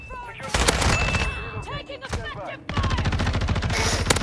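AR rifle fire in Call of Duty Warzone comes in loud, rapid bursts of close automatic shots that almost never stop, with someone talking over parts of the shooting.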